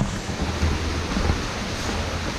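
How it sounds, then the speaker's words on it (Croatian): River water pours into a sinkhole cave, making a dense, continuous roar that is loud and close. It holds steady for the whole stretch with no talk. "Ovde reka Bigar uliva se u ovu pećinu ponornicu"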